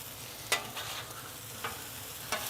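Pork fried rice sizzles steadily on a griddle while being stirred, with a few sharp scrapes of a utensil over the constant frying hiss, close and moderately loud.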